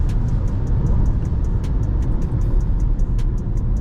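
Mini Countryman SUV driving along an open country road, a loud steady engine drone with road and tyre rumble heard from inside the car.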